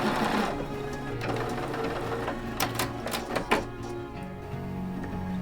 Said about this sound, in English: So let's sew those together.